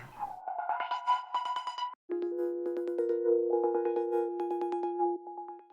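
Pitched 808 bass notes in a produced beat, mixed through a shaper box with both cut-itself settings on so the notes don't overlap, bouncing in a steady rhythmic pattern of clean sustained tones after a short melodic intro.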